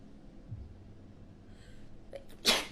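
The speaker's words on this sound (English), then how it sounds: "Hold on. I sneeze." A single sharp human sneeze bursts out near the end after a quiet intake of breath, close and brief against a faint background.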